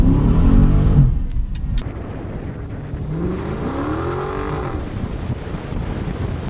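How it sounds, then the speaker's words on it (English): Dodge Charger Scat Pack launching in first gear from a 10 mph roll, its engine roaring loud and close as the tires spin, the pitch rising and the roar fading into a steady drone. "A lot of spin, as I sort of figured. 10 mile an hour, absolutely no match for this car. Blew the tires off quite handily."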